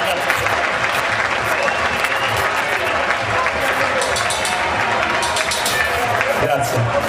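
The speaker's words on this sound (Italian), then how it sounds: "Facciamo un applauso a Mr. Kirby." An outdoor concert audience in Borgo a Mozzano applauds a performer, dense steady clapping mixed with crowd murmur.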